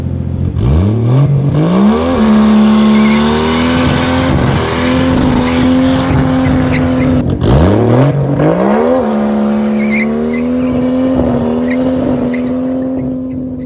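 A Mercedes M104 turbocharged car launches hard in second gear, engine roaring as it climbs in pitch with tire squeal, then a second full-throttle launch follows, loud and close throughout.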